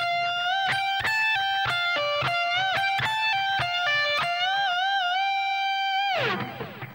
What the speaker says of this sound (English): So I'm bending 18 on the B,